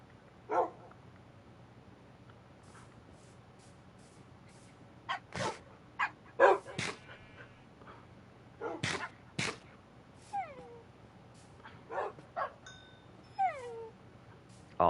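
Hurt wolves in Minecraft yelp and whine in short, scattered bursts, several close cries overlapping over a quiet low game hum, with no talking.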